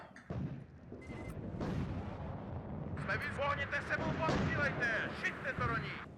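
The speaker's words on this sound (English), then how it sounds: "Artillery already firing away." Artillery firing in the video game WARNO, a string of deep booms and rumbling blasts at a distance, some overlapping, with someone talking over the barrage.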